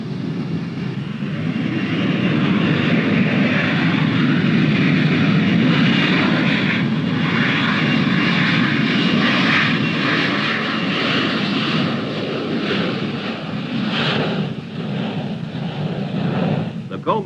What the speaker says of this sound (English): Bigman 5-1, cleared for takeoff, runway 17 right, wind 190 at 8 knots